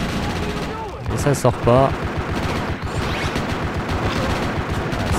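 Vehicles explode in the video game GTA Chinatown Wars as loud, booming gunfire-like blasts, several in a row, heard under someone talking.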